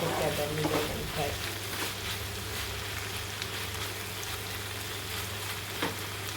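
Garlic and chilli fry in a pan for a prawn chilli fry, a steady, close, crackling sizzle that holds level throughout, with faint stirring scrapes now and then.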